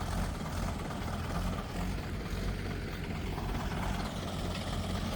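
A tractor labouring in wet soil during potato digging on a farm, a low, heavy engine rumble grinding steadily and moderately close, with no voices.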